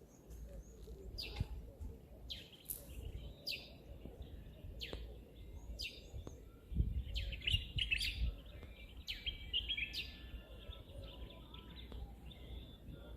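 Birds chirp and sing in scattered bursts in a garden in The Gambia in the morning, some close and some farther off, over a low steady background hum.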